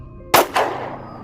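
A single sharp gunshot cracks out loud and close, followed almost at once by a second blast, each leaving a short, echoing tail that fades over the next second.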